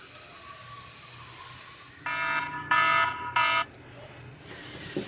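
A cooking timer beside a PK 360 grill searing ribeye steak gives three sharp, loud electronic beeps in quick succession over faint background hiss.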